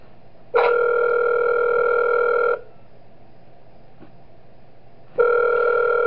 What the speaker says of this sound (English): I'm gonna mute the phone call since I already heard it.